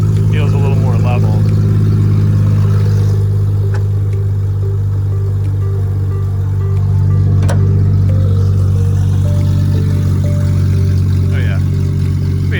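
A lifted off-road vehicle with a louder exhaust rolls off ramps, its engine idling and pulling in a loud, steady drone close by, swelling slightly midway with no speech.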